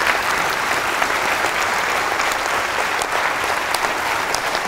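Audience at a Manchester public talk on space applauds, steady dense clapping sustained at even loudness throughout with no gaps.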